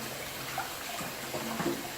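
Carrots scrubbed by hand under a running kitchen tap, a steady close hiss of flowing water with faint irregular rubbing and splashing.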